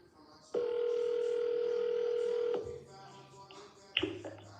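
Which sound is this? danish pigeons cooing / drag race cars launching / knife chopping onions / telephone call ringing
telephone call ringing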